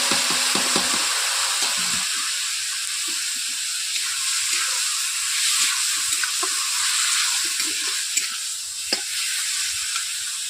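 Boiled vegetables hit a hot wok with turmeric and chili powder, sizzling in a bright continuous hiss while a spatula scrapes and stirs in short clattering strokes.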